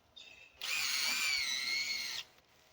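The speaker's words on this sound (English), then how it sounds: "we're going to want to drill a hole facing a little bit downwards so the gravity pours the syrup out naturally" A power drill bores a slightly downward-angled tap hole into a maple tree for syrup, giving one loud, steady high-pitched whir lasting around a second and a half in a quiet outdoor setting.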